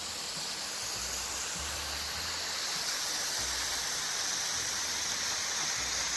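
A large waterfall in winter in Bavaria or Austria roars with a constant, dense rush of falling water, loud and steady throughout, with no voices.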